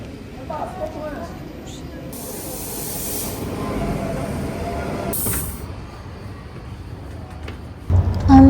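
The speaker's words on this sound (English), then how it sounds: "On the train now" A Swiss passenger train ride on a warm evening with a thunderstorm approaching: a steady broadband rumble and hiss of the moving carriage runs throughout, with brief sharp bursts of hissing air, and a louder knock near the end.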